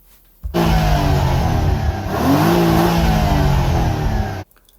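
A 2.7-litre V6 sports car engine revs hard, climbing in pitch and then holding a loud, steady growl before cutting off abruptly.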